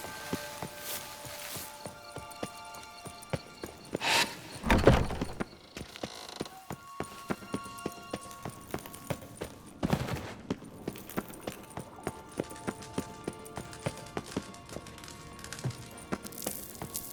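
Horse hooves clip-clop in The Witcher 3 in a steady, quick, even rhythm through the whole stretch. The clopping is close but moderate in level, with a couple of louder swells of movement noise partway through.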